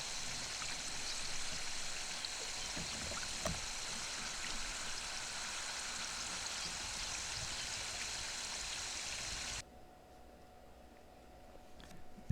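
Farm irrigation waters a field of sweet corn with a steady, soft hiss of spraying water that runs evenly for about ten seconds, then drops abruptly to a quieter background with faint drips.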